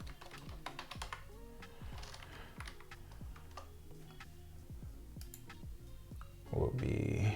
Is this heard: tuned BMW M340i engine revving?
no